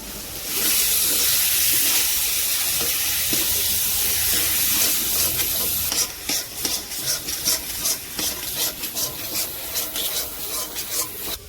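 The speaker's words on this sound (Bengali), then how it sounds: "আদা জিরে সর্ষে বাটা দিয়ে দিচ্ছি" Ginger, cumin and mustard paste hits a hot pan for a leafy taro-greens and coconut dish, giving a loud steady hiss and scraping for about six seconds, then breaking into a rhythm of repeated stirring scrapes. No talking.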